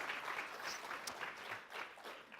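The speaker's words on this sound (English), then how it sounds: "And we are open for a round of applause too for Prashant, Kumar and Dean Dacko." Brief, moderately distant clapping from a conference audience after a presentation, a steady patter with no voices over it.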